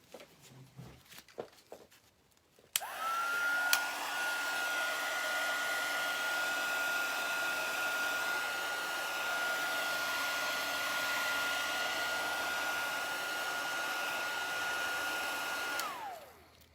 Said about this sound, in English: what if I use my hairdryer?